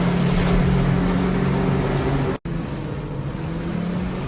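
A truck in the Black Ops 7 Zombies video game drives along with a loud, steady engine rumble that drops out for a split second partway through, then resumes; no one speaks.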